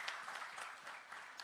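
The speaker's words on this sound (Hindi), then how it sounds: "उनके लिए एक बार ताली बजा दो" Audience applause for a nature photographer at a green-growth talk in Ahmedabad: brief, soft clapping from a crowd, steady and moderately distant throughout.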